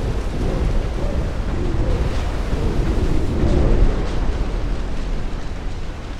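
Heavy rumbling torpedo blasts against a German warship in the naval strategy game Ultimate Admiral: Dreadnoughts, a dense, continuous low roar that swells slightly midway with no talk over it.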